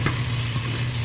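Onion, chili, ginger and garlic frying in a pot give a steady, loud, close sizzle as they are stirred, with a brief scrape at the start.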